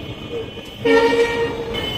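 A train at Rajshahi railway station sounds a short, fairly close horn toot over a background of station rumble.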